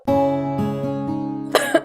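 After a sustained tonal hum, a woman gives a couple of short, sharp coughs near the end.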